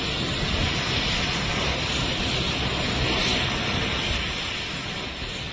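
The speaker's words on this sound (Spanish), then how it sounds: "En temporada alta, decenas de aviones aterrizan cada día." Aircraft land at an airstrip in the Masai Mara, a steady broad roaring engine wash that holds at a constant loudness throughout and eases off slightly at the end.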